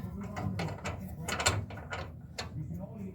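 A screw is tightened on the gas tank strap of a 1968 Camaro, giving a close series of quick ratcheting clicks and metallic ticks at an uneven rhythm.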